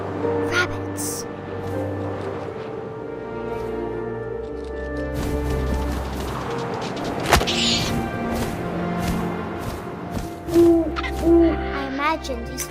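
An owl hoots in What Remains of Edith Finch, soft low calls repeating over a quiet hum of wind and game ambience, with a sharp rustle partway through and a couple of louder hoots near the end.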